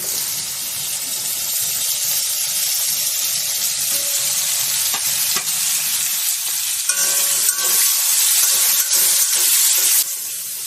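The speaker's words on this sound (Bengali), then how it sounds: "পেঁয়াজটা আমার ভালো করে ভাজা হয়ে গেছে" Steady, dense sizzling of chopped onion and whole garlic frying in hot oil, with occasional soft stirring clinks; continuous and fairly loud, no voices.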